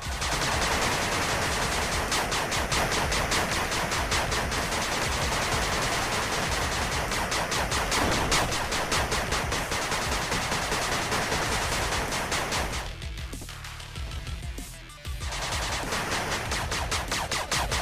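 A machine gun turret fires without letup in the retro strategy game 8-Bit Armies, giving continuous rapid gunfire with a brief lull near the end before the shooting resumes.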